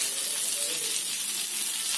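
Surmai fish frying uncovered in a pan, giving a steady, even sizzle of hot oil that holds at a constant level without pauses, close by and with no talking.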